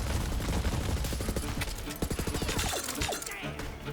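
Rapid gunfire in Borderlands 3 crackles as dense, repeated shots in quick bursts, loud and close, thinning out toward the end.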